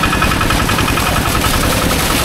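Engine of a water pump drawing fresh groundwater near farm plots, a loud, close, steady rapid chugging drone with no letup.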